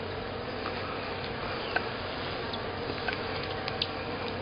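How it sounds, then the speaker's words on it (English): A swarm of bees returning to a hive in Lithonia, Georgia, a dense, continuous buzzing drone heard close up, with a few individual insects zipping past more loudly now and then. "a pretty good load of bees right there"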